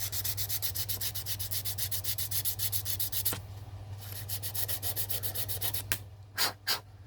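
Sandpaper rubbed over the face of a clarinet-style mouthpiece, a steady rhythmic scratching of repeated strokes for about three seconds, then softer rubbing and a few sharper isolated swipes near the end, close and alone.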